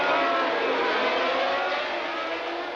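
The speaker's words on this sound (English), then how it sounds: "The engine revs rise" A loud, continuous high-pitched roar of 1980 Formula One race car engines revving together at the start of the German Grand Prix, steady and close, with no voices.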